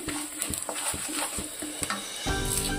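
Turmeric and asafoetida stirred into hot oil in a pan for tomato-coconut chutney, a steady sizzle broken by several scraping, clinking strokes of a spoon against the pan, close by, with the frying growing louder toward the end.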